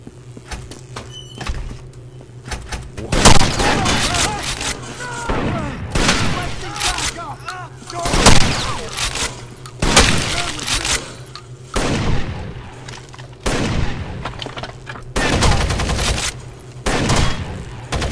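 Rainbow Six Vegas gameplay on the LVU Campus map, with repeated loud bursts of gunfire and booming shots in separate volleys, some rapid and some single, separated by short quieter gaps.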